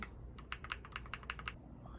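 Quick, crisp clacking keystrokes on a clear purple mechanical keyboard, about a dozen presses in an uneven burst, close but faint, with no talk.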